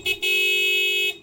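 An aftermarket spark car horn gives a short toot, then a longer, bright, steady honk of about a second, loud and close.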